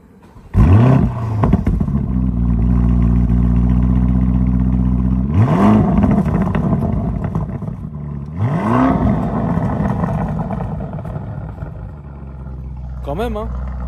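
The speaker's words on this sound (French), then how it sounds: "Je vais démarrer en mode Corsa, comme ça vous allez avoir les valves ouvertes." A car started at night in Corsa mode with its exhaust valves open catches with a loud burst, then settles into a steady deep idle broken by several sharp rising revs, captured up close.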